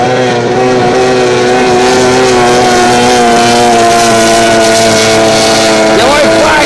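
An outboard racing powerboat on a river circuit's back straight, its engine a steady loud tonal drone with layered harmonics held throughout, shifting briefly near the end; the race is called over it.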